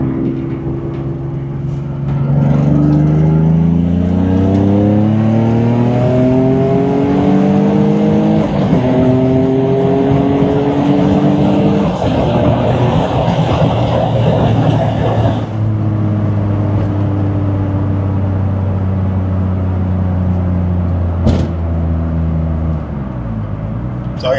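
A turbocharged Nissan 350Z accelerates loudly from close range, its engine climbing through the gears with rising pitch and brief drops at each shift, sustained for over twenty seconds without talk.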